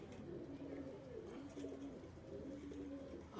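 Pigeons kept by a Hindi-speaking fancier coo in low, repeated throaty phrases, several birds overlapping at close range against a steady background murmur.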